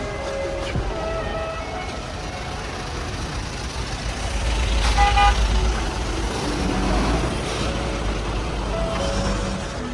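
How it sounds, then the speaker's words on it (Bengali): Busy traffic jam on a road after a vehicle collision, engines rumbling and idling while car horns toot intermittently, a heavier vehicle swelling louder in the middle. "তীব্র জ্যাম জট লেগে আছে রাস্তার মধ্যে।"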